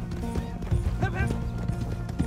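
Horse hooves clip-clop at a steady walk in Red Dead Redemption 2, close and clear as the horse slows to a stop, with a brief neigh-like sound and a voice over it.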